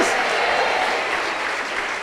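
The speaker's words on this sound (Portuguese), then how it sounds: "vamos aplaudir esta palavra, pode aplaudir com vontade" A church congregation applauds enthusiastically, a continuous even wash of many hands clapping for the entire moment, loud and close with no breaks.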